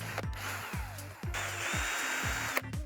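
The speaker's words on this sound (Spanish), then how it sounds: "Hacemos una guía con broca para madera de 4 milímetros" A 4 mm wood drill bit bores a pilot hole for a Japanese garden panel, a drill whining in short repeated pulses that rise and fall in pitch, with a steadier grinding stretch in the second half.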